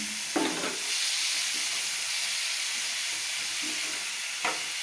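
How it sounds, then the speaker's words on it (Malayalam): Chopped onions frying in hot oil for onion pickle, with a steady close sizzle broken by a few louder stirring scrapes, no voices. "എണ്ണ ചൂടായ ശേഷം നമ്മൾ അരിഞ്ഞ് മിക്സ് ചെയ്ത് വെച്ചേക്കുന്ന സവാള ഇതിലൂടെ ഇടുക"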